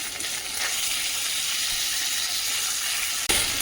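Ginger paste and turmeric hiss and sizzle steadily in hot oil in a frying pan, a close, continuous crackling spatter with a sharp pop near the end.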